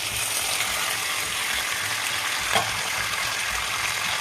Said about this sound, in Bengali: এই যে বেগুনগুলো আমি দিয়ে দিলাম